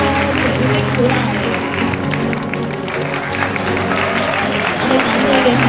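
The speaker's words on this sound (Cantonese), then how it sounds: "掌聲鼓勵" Wedding party guests at a banquet clapping steadily and loudly throughout, a dense continuous applause filling the room with crowd murmur mixed in.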